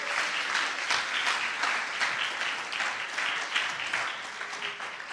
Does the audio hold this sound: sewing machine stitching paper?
no